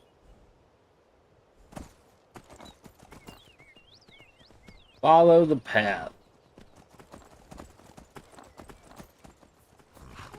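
Horse hooves clop in an uneven rhythm, close by, under a man's speech in the video game The Elder Scrolls V: Skyrim. Game-like sound effects accompany the steps.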